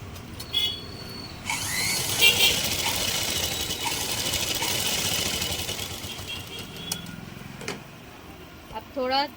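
A sewing machine runs in short bursts while stitching a blouse, its whirring hum steady at moderate volume, with a person speaking over parts of it.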